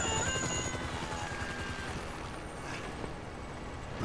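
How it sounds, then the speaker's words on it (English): Helicopter in the video game Grand Theft Auto, a steady rotor drone with a whining tone holding for a few seconds at moderate level, with no voices over it. "Can you hear that? Chopper! Incoming!"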